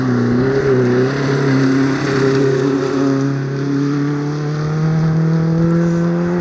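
A Ford Escort rally car races along a closed stage at the Riponian Stages 2025, its engine loud and close, holding a steady drone before the pitch climbs as it accelerates.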